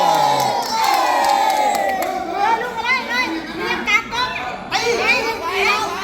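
A lively crowd, many of them children, cheers and shouts in excited bursts at a sports match, loud and close, with voices calling over the noise throughout.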